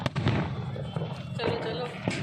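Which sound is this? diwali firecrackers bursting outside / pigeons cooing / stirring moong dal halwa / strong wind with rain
diwali firecrackers bursting outside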